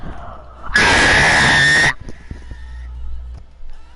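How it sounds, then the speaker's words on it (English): A man lets out one loud, sustained scream lasting about a second, very close and piercing, then quieter breathing and small vocal noises follow. "Alright, you want me to scream?"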